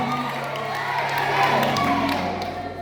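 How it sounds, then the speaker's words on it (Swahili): A crowd at a gospel women's event claps and cheers throughout, with scattered shouts and whoops rising briefly toward the middle. "Makofi tena kwa mama."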